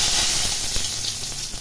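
Dry red chillies and bay leaves sputtering in hot oil for a Bengali cauliflower curry tempering, a steady close sizzle and hiss with a few small pops, no voices.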